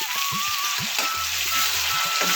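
Onions sautéing in oil with rock salt for a bottle gourd curry, giving a steady bright sizzle and fine crackle throughout, close and even in level.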